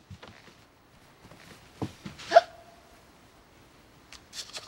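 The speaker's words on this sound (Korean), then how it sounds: "죄송합니다만 딸꾹질이 나네요." A man hiccups during a tense exchange with a reporter in a Korean drama scene, giving a few short, sharp hiccup bursts spaced apart, with one louder hiccup standing out in an otherwise quiet room.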